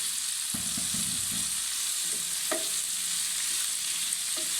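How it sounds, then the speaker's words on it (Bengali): Sliced bitter gourd fries over high heat while being stirred constantly, a continuous bright sizzle broken by several knocks and scrapes of the spatula against the pan. "চুলাটা হাই হিটে রেখে করলাটা অনবর নাড়তে থাকবো।"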